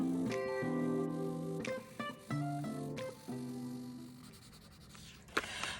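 A blue colored pencil scratches back and forth, coloring in boxes of a printed savings challenge sheet. The soft rubbing strokes come in short bursts and pauses beneath faint tonal background music.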